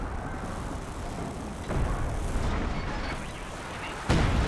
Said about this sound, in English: Creeping barrage takes out the Ostheer mortar there.